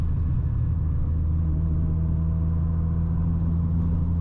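A Chevrolet Astra 16v on a highway gives a steady, loud low engine rumble and road drone, heard from inside the car with no talking over it.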